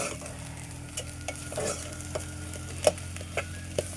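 Egg frying in a pan of fried rice, a soft steady sizzle close by, with a few sharp scraping stirs and spatula taps spaced across it and no talking.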